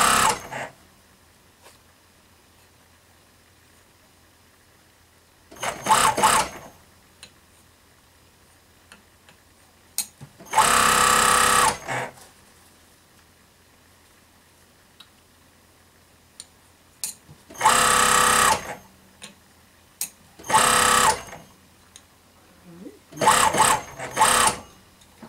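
A sewing machine stitches long-haired shadow fox fur for a stole, running in short, loud bursts of rapid whirring separated by quiet pauses, about six runs in all.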